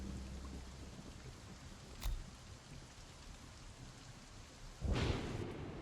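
Steady heavy rain hisses throughout a thunderstorm in a zombie base-builder RTS video game, with a sharp crack near two seconds and a deeper rolling thunder boom near the end.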